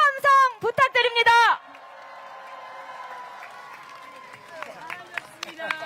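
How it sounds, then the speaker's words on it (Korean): A crowd at a Korean presidential campaign rally applauds and cheers for Professor Yoo Hong-jun. A brief loud voice opens, then a sustained wash of clapping and crowd noise follows, with scattered shouts rising toward the end. "여러분 유홍준 교수님께 다시 한번 큰 박수와 함성 부탁드립니다"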